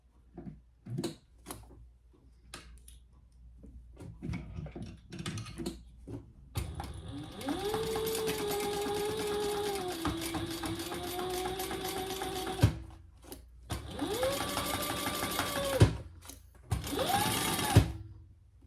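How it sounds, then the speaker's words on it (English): A sewing machine stitches the seam of a handbag: short clicking bursts, then longer runs of steady, humming mechanical whirring with pauses between, close and clear. "we're gonna sew that together at the seam allowance in the pattern"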